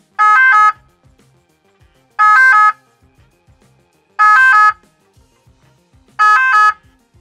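A French emergency vehicle siren with a three-tone call, loud and close, sounding in four evenly spaced bursts with silence between them.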